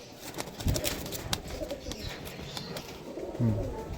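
Teddy pigeons of a high-flying Pakistani breed coo in soft, repeated throaty rolls nearby, with a couple of louder swells against a steady background hum.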